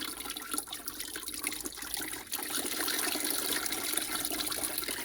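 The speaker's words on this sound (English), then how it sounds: "Let it stream through like a makeshift filter, because you want the water to siphon" Water streaming and trickling through sieves used as a makeshift filter over dirt to make homemade clay, a steady broadband wash that grows slightly louder midway and carries on without talk.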